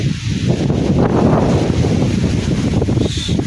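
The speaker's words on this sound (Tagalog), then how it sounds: "So dito sa amin, lakas yung hangin." Strong wind roars and buffets against the microphone, a constant low rumble with rustling texture throughout, during Typhoon Carina on a string bean farm.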